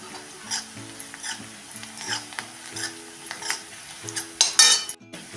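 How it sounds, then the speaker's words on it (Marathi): Crushed green chili and garlic sautéing with turmeric and chili powder for lasuni methi, a soft sizzle broken by rhythmic spoon-on-pan scraping and a sharp metallic clink near the end, close and alone. "ठेचलेली हिरवी मिरची आणि हा लसूण फक्त हा लसणाचा कच्चापणा कमी होईपर्यंत परतून घेऊया"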